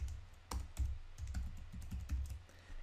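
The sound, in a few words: typing on a computer keyboard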